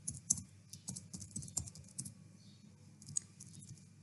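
Quiet, rapid key clicks from a computer keyboard during a typing test, tapping in an irregular rhythm with occasional louder strokes and a brief pause midway, with no talk.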